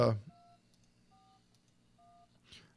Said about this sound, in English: I'm going to enter the number in here